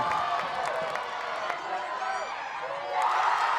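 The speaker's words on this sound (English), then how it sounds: "Carleton gets the score to the roar of the crowd" Crowd noise at a women's Division III college ultimate championship final between Carleton and Middlebury. It is a steady roar of voices with shouts and whoops that swells louder near the end.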